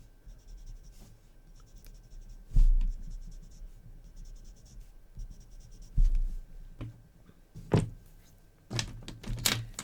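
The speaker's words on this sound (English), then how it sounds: "I'm going to go under here and just put some graphite." Graphite pencil shading on paper while working a Zentangle pattern: soft, uneven scratchy strokes in short bursts with a few louder taps of the pencil, close and quiet, with no talk.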